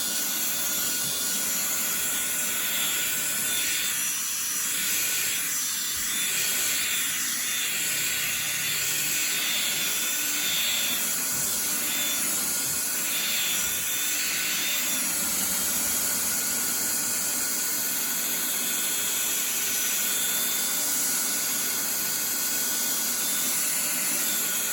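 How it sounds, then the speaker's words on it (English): A Ryobi drill spins a light-duty Chemical Guys brush scrubbing carpet cleaner into carpet, giving a continuous loud whirring hiss with rhythmic swishing surges that runs unbroken for the whole stretch. "Just gonna take our light duty brush from Chemical Guys and my Ryobi drill."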